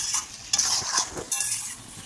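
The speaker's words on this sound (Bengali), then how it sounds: "জল দিতে বেশি করে মাংসটা একটু ভাইজে নিচ্ছি" Meat frying and being stirred in a pan with extra water added, with scraping spoon strokes and clinks over a steady sizzle, close and moderately loud.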